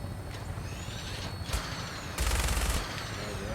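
Gunfire in the video game Fallout 4, survival mode assault on Fort Strong: a sharp shot near 1.5 s, then a dense burst of firing around 2.2–2.8 s over a constant hum of game ambience.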